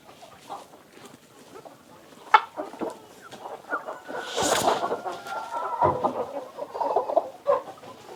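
Farm hens clucking close by in an enclosure, with repeated short clucks and squawks scattered across the clip, growing busier and louder toward the end.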